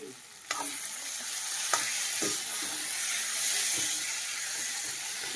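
Boiled dal for tadka is tipped into a hot pan and fries with a steady sizzling hiss, punctuated by a few sharp clinks of a spoon stirring; close and fairly loud, with no talking.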